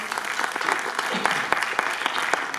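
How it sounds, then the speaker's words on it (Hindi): An audience at a film launch ceremony in an art council hall breaks into loud applause, dense and steady with sharper individual claps standing out, with no talk over it. "उनके लिए स्पेशली तालियां बजा दीजिए कि वो मल्टी टैलेंटेड है"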